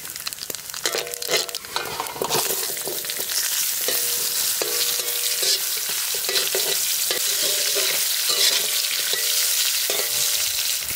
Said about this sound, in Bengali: তেল গরম হয়ে গেছে, দিয়ে দেবো শুকনো লঙ্কা ফোড়ন, তার পাশাপাশি দিয়ে দেবো কালো জিরা।